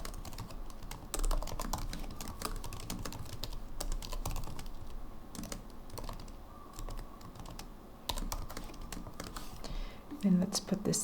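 Code being typed on a computer keyboard, a quiet close run of fast, uneven key clicks with short pauses, faint and continuous for the whole stretch.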